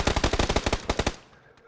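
Rapid automatic gunfire in the video game PUBG: Battlegrounds, a loud close burst of about a dozen evenly spaced shots that stops abruptly and leaves a brief fading echo.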